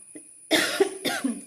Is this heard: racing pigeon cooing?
no